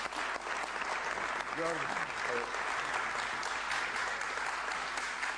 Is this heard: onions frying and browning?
no